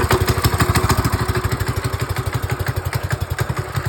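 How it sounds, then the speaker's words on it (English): A rebuilt minibike engine idles loudly and close by with a fast, even, thumping putter that holds steady throughout, no talking over it. "Bike running good."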